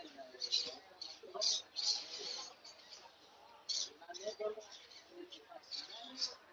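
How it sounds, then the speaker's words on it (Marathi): Small mice squeak in a Mumbai wholesale pet market. Quick, high squeaks come in repeated bursts over a soft background murmur, with voices talking nearby. "छोटे उंदीर बघा,"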